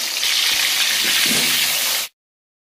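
Potatoes fry in hot oil with a steady, loud sizzling hiss and a few faint stirring clunks underneath, cutting off abruptly after about two seconds.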